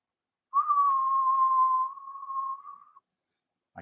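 A person whistles a single steady tone into a radio transmitter microphone, one sustained note of about two and a half seconds that fades toward the end, clean and close with no talk.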